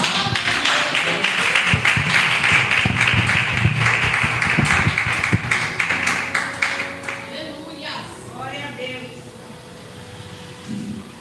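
A church congregation claps in a steady rhythm, loud at first and then fading, mixed with voices and a little background noise.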